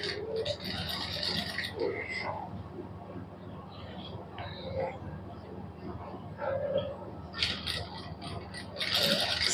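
Sewing machine stitching lace onto the neckline of a suit, a close mechanical whirring and clicking run that slows and picks up again, with a few higher clatters, with no speech.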